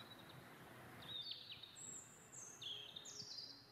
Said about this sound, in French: Ça, c'est le rouge-gorge familière.